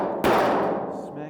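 A hammer strikes torch-heated sheet metal on a 1972 El Camino, a single sharp smack with a brief decaying ring afterward, close and loud.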